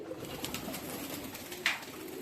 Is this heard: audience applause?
no